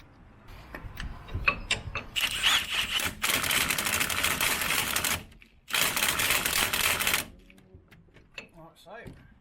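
Pneumatic impact wrench rattling in two loud bursts, each about three seconds long, as it runs a nut onto a Peugeot 107's suspension during a lowering-spring fit. Quieter workshop handling noises sit between and around the bursts.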